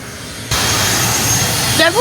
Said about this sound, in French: Tout petit avion, on va vous filmer ça.